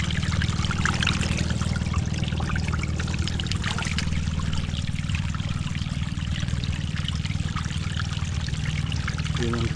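Spring water pouring and trickling steadily beside a boat, a continuous close splashing flow that holds even throughout with a low hum underneath.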